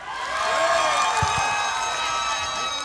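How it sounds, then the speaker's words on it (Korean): A festival crowd of fans cheers and shouts together at the Goheung Yuzu Festival, a dense, sustained roar of many voices with a couple of brief low thumps partway through. "열정적으로 함성 질러주는 이 분위기 너무 좋지 않습니까?"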